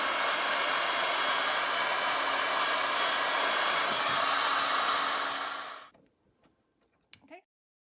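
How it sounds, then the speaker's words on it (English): A heat gun blowing hot air over painted furniture, a loud steady rushing hiss held for several seconds close up, then cutting off into quiet with a few faint handling sounds. "You're gonna want to take your heat gun and then go over it."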